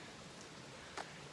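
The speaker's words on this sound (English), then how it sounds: "it's overcast and raining right now" Soft, steady rain falls on an overcast day at a backcountry campsite in Colorado, a faint even hiss with one brief louder patter near the end.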